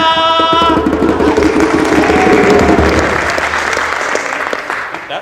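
Audience applause from a crowd at a live storytelling show of the Ugly Duckling, a dense sustained clapping that swells then gradually tapers off over about five seconds, with a brief tonal sound at the start.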